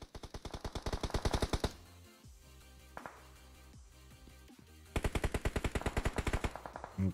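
Automatic gunfire in the PUBG Mobile video game during a competitive esports match, fast loud bursts of shots at the start and again near the end, with fainter distant single shots in between.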